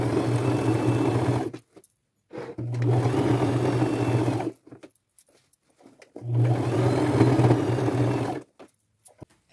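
A sewing machine fitted with a denim needle slowly stitches a thick boho fringe bag, loud close humming runs in three bursts separated by short pauses with faint handling noises.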